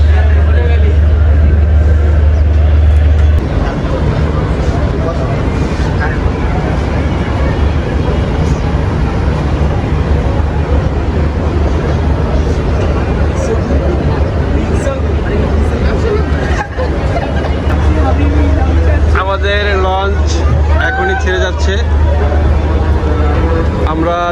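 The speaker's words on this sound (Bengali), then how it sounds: "লঞ্চ এখনই ছেড়ে দিল আমাদের গন্তব্য হচ্ছে পটুয়াখালী গলাচিপা" Passenger river launch departing toward Patuakhali, Galachipa in Bangladesh, a loud steady engine rumble throughout with crowd babble and voices on board.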